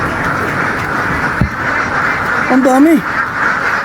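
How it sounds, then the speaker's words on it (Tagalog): Ducks of a good breed on a farm give a loud, close quack cluster near the end, over steady background hum and ongoing conversation. "Magagandang breed ng itik to."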